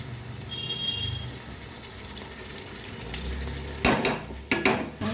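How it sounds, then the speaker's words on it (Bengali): Rice goes into a pot for pulao amid quiet kitchen clatter, a soft low hum giving way to a few sharp bursts of grains and metal pot contact near the end. "এখানে পোলাও হচ্ছে, পোলাও করব। চালগুলো দিয়ে দিচ্ছি।"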